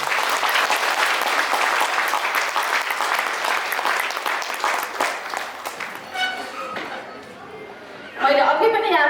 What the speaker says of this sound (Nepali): हाम्रो दुवैजना आमाहरूको लागि हामी जोरदार ताली बजाउनेछौँ।